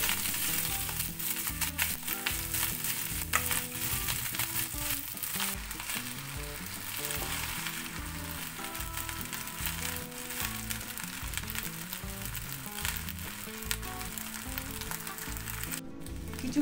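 Rice frying in a pan while jeera rice is being made, giving a steady, dense sizzle and crackle that runs unbroken and fairly loud throughout, with scraping stir sounds mixed in and no voices.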